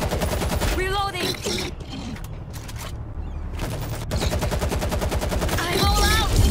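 Rapid bursts of automatic gunfire in the World War Z video game, loud and close, come in dense volleys with short gaps and then resume heavily toward the end.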